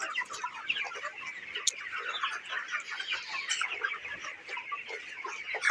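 Many broiler chickens cluck and chirp together in a continuous, busy chatter, moderately loud and close, with no talking.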